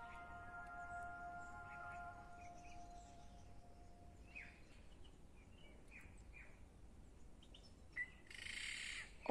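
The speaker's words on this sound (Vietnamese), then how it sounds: "Có một tiếng con chim gì đó kêu rất là lạ." An odd bird call, thought to be a night heron, rings out in a forest: a few faint, scattered squawks over quiet background, with a louder burst near the end.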